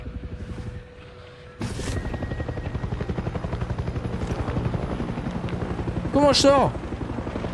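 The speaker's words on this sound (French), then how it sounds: "Oh, mais il y a l'hélicoptère." Helicopter in the video game Far Cry 6, a loud chopping rotor thump that starts abruptly and pulses steadily, with someone speaking French over it and a brief sharp burst near the end.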